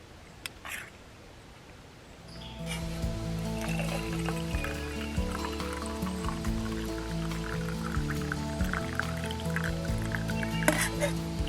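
Cool water pours steadily into a small pot on a camp alcohol stove setup, a continuous trickling fill with a rising, bubbling tone that runs for about nine seconds after a couple of faint taps.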